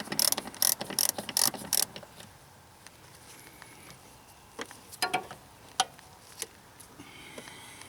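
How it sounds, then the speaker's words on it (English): A ratchet clicks in a quick run of sharp, close ticks while loosening a bolt on the fuel filter of a 1990–93 Honda Accord 2.2L, followed by scattered metallic clinks and taps. "I got this second bolt coming, and as soon as I get it loose, this whole thing will drop."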